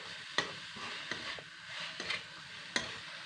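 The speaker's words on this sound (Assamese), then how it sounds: "অলপ লৰাই দিব লাগিব।" Ginger, garlic, cumin and spices fry in a pan for a taro leaf dish, a quiet steady sizzle punctuated by a few sharp scrapes and knocks of a spoon being stirred, faint and close.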